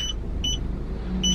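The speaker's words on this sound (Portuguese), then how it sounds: "Sensor de ré enjoado, gente." Reverse parking sensor of a car beeping in short repeated pairs of high tones, three bursts spaced about half a second apart over a low engine rumble while backing out of a gate in Goiânia.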